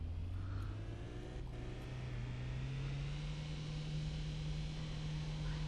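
A car idles and then pulls away in the City Car Driving VR game, a steady low engine drone whose pitch climbs gradually as it gets under way, with a faint hiss over it and no talk.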